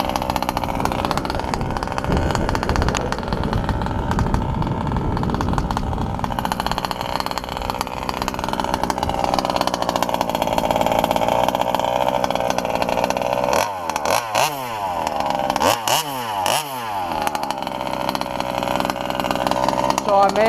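A nitro-powered small engine with a VP C9 fuel setup is started without the choke and keeps running, a loud, steady high buzz with a few brief throttle blips near the end while someone talks over it.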